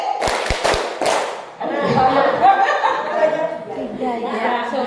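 Rapid rhythmic hand claps in a Tepuk concentration game, a quick burst of about four sharp claps up front, then a group's murmuring chatter and light laughter.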